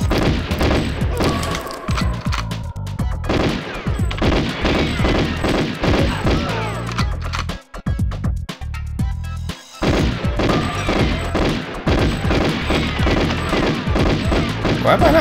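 Gunfire in Goldeneye 007 Remastered, loud repeated automatic bursts with booming impacts and short pauses, broken by a brief quiet stretch midway.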